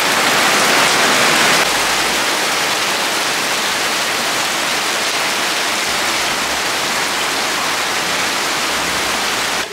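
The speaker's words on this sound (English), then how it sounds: "this turned into like the heaviest rain that we've had coming into this year's hurricane" Heavy rain pours onto a sailboat during the run-up to hurricane season, a dense, steady roar of drumming drops that stays loud and unbroken throughout.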